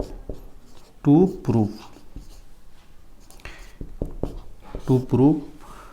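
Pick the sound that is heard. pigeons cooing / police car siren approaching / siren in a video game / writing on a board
writing on a board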